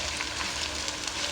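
Okra and green chillies frying in a pan give off a faint, even sizzle that holds steady through a brief moment.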